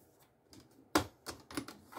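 Sheets of 110 pound cardstock are cut to size for hot cocoa packs, giving a few sharp, crisp snaps and scrapes at close range, fairly quiet and with no talking.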